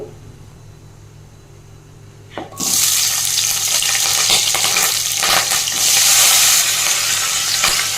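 Onions and chillies drop into hot oil with cumin, and after a quiet opening with faint hum a sudden loud burst of sizzling breaks out, continuing as a strong, crackling fry with scraping stirs.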